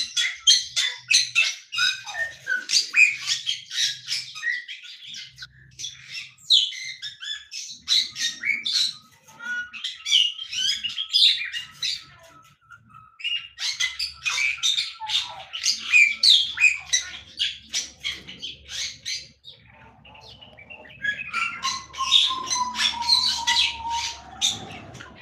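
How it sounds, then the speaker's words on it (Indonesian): A Bali starling in an aviary gives loud, repeated bursts of harsh squawks and shrill chirps, close by, in phrases broken by short pauses, with a low hum in the background. "Nah, itu jalak Bali."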